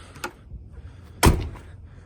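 Rear door of an OBS Ford truck opened by hand, with a faint click near the start and one sharp latch clunk about midway, close by and alone.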